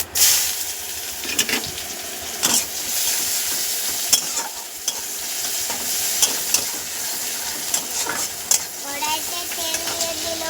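Onion fries in oil in a wok, a continuous close sizzle broken by repeated scraping strokes of a spatula stirring it, no talking heard.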